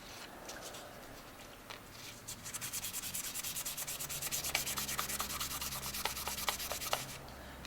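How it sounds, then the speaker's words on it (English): A rusty knife blade is rubbed by hand with 400 grit sandpaper, starting with a few scattered scrapes, then settling into a steady run of close, rhythmic back-and-forth sanding strokes. "let's take a little bit of that 400 grit sandpaper."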